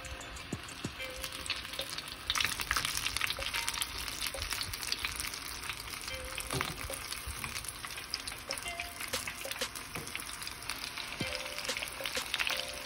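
Coconut shrimp deep fry in hot oil with a constant crackling sizzle, dense bubbling pops scattered throughout, steady and moderately quiet, close by with no voices.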